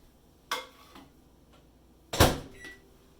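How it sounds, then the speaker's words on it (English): A microwave oven door clicks and pops open, a small click followed by a louder latch release and door swing, with no one speaking. "put it in the microwave. Open."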